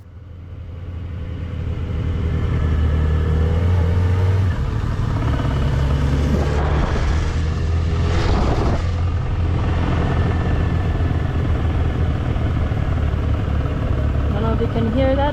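Steady loud engine drone of a motorcycle running in second gear, with a continuous rattling buzz riding on the rumble throughout.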